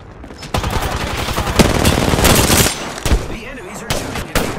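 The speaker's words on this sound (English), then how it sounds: "The enemies are shooting at me." Enemy gunfire in Apex Legends, heard as loud, dense bursts of rapid automatic fire. The shots crackle close by in several volleys with brief gaps between them.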